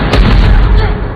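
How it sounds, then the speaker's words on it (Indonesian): A single loud gunshot from a film scene booms and rolls off over about a second. "Will menembaknya."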